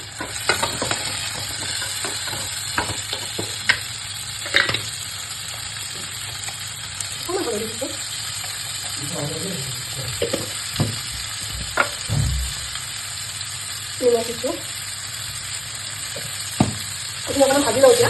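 Tomatoes, garlic and green chillies fry in a pan while being stirred, with a continuous sizzle broken by scraping stirring strokes and occasional clacks of the spoon. Faint voice fragments surface briefly in the background.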